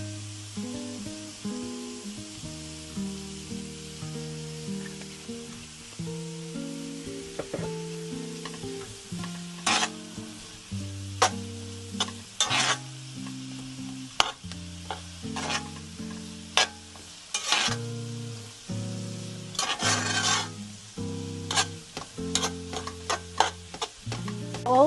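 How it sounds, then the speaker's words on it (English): Sliced eggs frying in oil in a pan, shallow-cooked for tawa biryani, give a soft steady sizzle under a run of music, with occasional louder crackles and pops spread through the stretch. "All the slices have been separated now, so I'm just going to let them fry for about 10 minutes."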